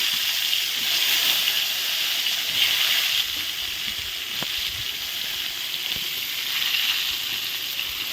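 Eggplant slices frying in a pan for a spicy Bengali eggplant dish, giving a steady, close hiss and sizzle of hot oil that runs evenly throughout with no talking.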